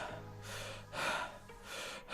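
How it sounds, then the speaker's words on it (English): Heavy male breathing, several deep drawn gasps and exhalations in sequence, close and fairly loud with no one talking. "it's just basically heavy breathing, heavy male breathing"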